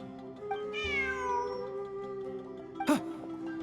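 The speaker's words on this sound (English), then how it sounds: "Look, a cat." A cat in Genshin Impact gives a clear, drawn-out meow that rises and falls, followed by a brief sharper mew a moment later, heard over quiet game ambience.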